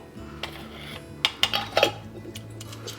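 Baking soda, baking powder and salt stirred together in a bowl, with a few sharp clinks and scrapes of a utensil against the bowl, close and moderately loud over a faint steady hum; no voices.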